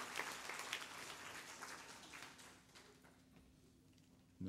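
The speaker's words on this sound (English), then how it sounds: "Let's applaud all of them for a job well done." An Easter Sunday church congregation applauds, a spread of handclaps that fades gradually before cutting off, with no speech.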